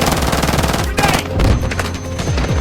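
Dense, loud automatic gunfire and bursts of shots crackle almost without a break in a Call of Duty firefight, with a deeper boom partway through and shouted voices mixed in.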